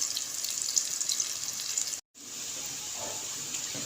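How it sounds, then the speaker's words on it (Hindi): Chopped onions fry in a pan with a steady, bright sizzle that cuts out briefly midway and then resumes at an even level. "प्याज को हम फ्राई करेंगे और इसको हमें हल्का ब्राउन करना है"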